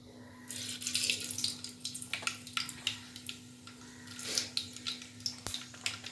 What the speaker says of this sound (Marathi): आता मी पहिल्यांदा याच्यामध्ये मोहरी टाकून घेते